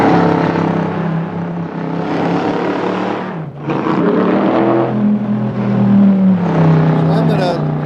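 A car engine fitted with headers and an exhaust system revs up and down, its throaty pitch rising and falling in repeated surges, loud and close, with a brief dip midway before climbing again.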